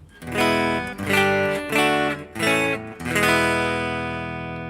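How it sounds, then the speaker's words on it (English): A clean electric guitar plays a series of ringing chords, each struck and sustained, the last one left to ring out and fade. "Now I'll go to the actual clean sound."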